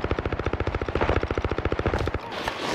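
Rapid automatic gunfire in a video game fight, a fast, even stream of loud close shots lasting about two seconds before breaking into a noisy, rougher tail.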